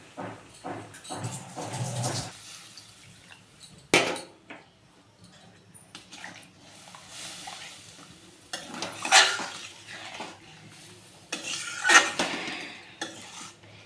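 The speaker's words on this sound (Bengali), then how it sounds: "চিনিটা গলে এসছে, এবার আমি জল দিয়ে দেবো।" Water poured into a pot of melted sugar for a Bengali mango chutney, with bursts of hissing and sizzling interrupted by clanks of a metal spoon and pot, close and fairly loud, no speech.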